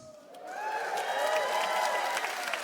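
An audience at a stand-up comedy show breaks into applause, rising quickly and holding at a steady level for a few seconds, with some cheering mixed in.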